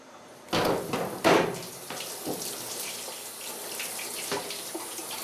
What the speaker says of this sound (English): I probably need to wash the grapes.